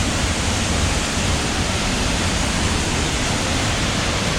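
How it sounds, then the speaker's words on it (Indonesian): Sekar Langit waterfall pouring steadily at close range, a dense, continuous roar of falling water with no let-up and no other sounds. "Dan ini merupakan air terjunnya."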